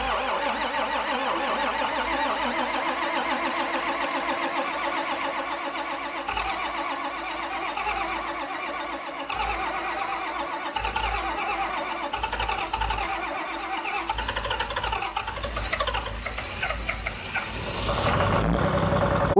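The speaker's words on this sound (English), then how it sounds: "In order to do that, we got to start the tractor." A cold farm tractor that had not been plugged in, started on a cattle farm, runs as a loud, steady, close engine rumble throughout, swelling slightly toward the end.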